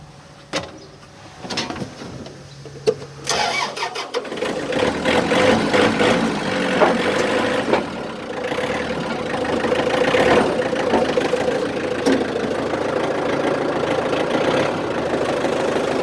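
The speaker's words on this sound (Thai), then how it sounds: "รถสตาร์ทติดง่ายครับผม" A 2016 Yanmar 49 hp farm tractor cranks a few times, then its diesel engine catches and settles into a loud, steady, knocking idle that runs close to the microphone without pause.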